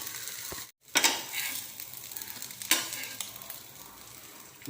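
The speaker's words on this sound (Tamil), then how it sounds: "ஸோ ஒரு தோசை ரெடி ஆகிடுச்சு இன்னொரு தோசை ஆகிட்டுருக்கு" Dosa batter cooks on a hot pan with a steady close sizzle and frying crackle, interrupted by a couple of sharp scraping spatula strokes.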